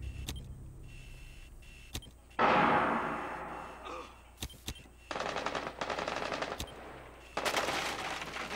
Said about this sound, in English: Someone's shooting from the roof.